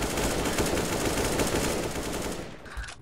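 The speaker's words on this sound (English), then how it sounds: "Trying to shoot him through the box outside." Rapid gunfire in Counter-Strike: Global Offensive, a loud sustained burst of shots that cuts off abruptly near the end, leaving near silence.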